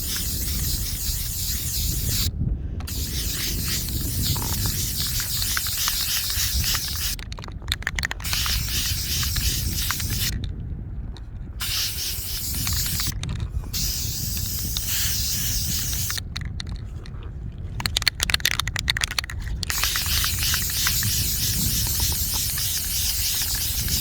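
A can of Krylon spray paint hisses steadily as it coats a tumbler, long continuous bursts broken by several short pauses, loud and close.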